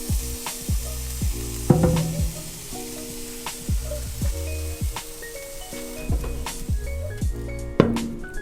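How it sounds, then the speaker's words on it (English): Steak sizzles steadily on a hot grill, a continuous bright frying hiss with occasional clinks, heard up close with no talking. "Put the meat on the grill."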